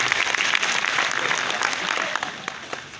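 Seminar audience applauding loudly and steadily for the speaker, a dense wash of many hands clapping that carries on for a few seconds and eases slightly toward the end.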